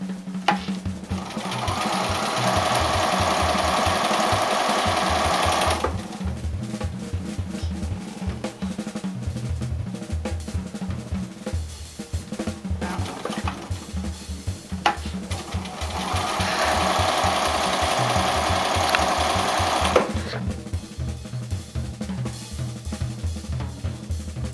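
Home sewing machine stitching a short seam over pins in fabric, a steady loud whirring run that stops midway, pauses, then starts again for another burst before ending.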